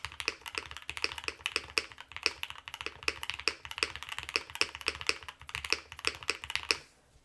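Rapid mechanical keyboard typing on a Sonnet keyboard with Milky Yellow switches and foam, steady clacky keystrokes with a deep, muted thock, close up and continuous for several seconds before stopping.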